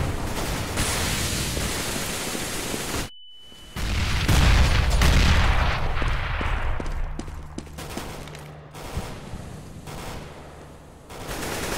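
A grenade thrown and exploding in CS:GO: a loud blast erupts after a brief gap, followed by a long rumbling decay with scattered gunshots and clicks continuing around it.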